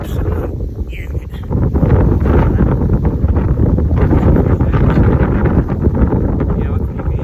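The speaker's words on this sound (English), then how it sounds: "it's very windy again today" Strong gusting wind buffets the microphone outdoors beside a carp fishing lake, a loud, broad roar that swells and stays dense throughout with no other clear sounds.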